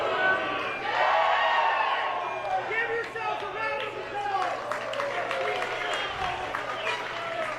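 A wrestling crowd at a UPW Uprising event jeers and boos as two Boston brothers battle in the ring, a loud, sustained roar of mixed voices that swells and dips, with a commentator speaking over it.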